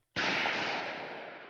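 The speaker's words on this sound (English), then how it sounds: "After the gunshot, we heard panting and a ragged frail voice." In the visual novel game Chaos;Head Noah, a single gunshot cracks out sharply from near silence, then decays in a long, noisy reverberant tail lasting over a second, with no voices.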